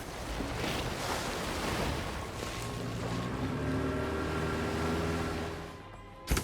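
A small dinghy moving across water in the Hitman video game, a continuous rushing wash of water and steady motor hum lasting several seconds, ending with a brief bump.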